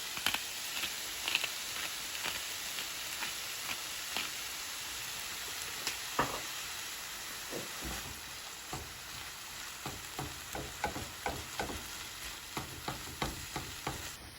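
Ground meat fries in a pan with a constant crackling sizzle, broken by repeated scraping strokes as it is broken up and stirred, close and steady throughout, no talking.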